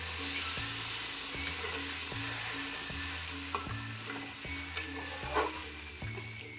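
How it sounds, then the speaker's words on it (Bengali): A hot pan for snakehead fish curry sizzles with a strong hiss as water is poured in, the steam settling under a steady, repeating low hum and a few light clinks. "এবার আমি জল দিয়ে দিচ্ছি"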